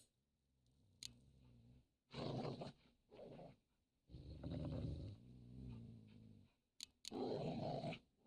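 Dogs in The Witcher Wild Hunt growl in low, rumbling bursts separated by brief quiet gaps, close and menacing, with a few sharp clicks between growls.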